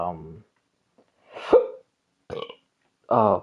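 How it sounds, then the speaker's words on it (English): A person burps several times in short, separate bursts spread across a few seconds, loud and close against otherwise quiet surroundings. "Excuse me, I keep burping."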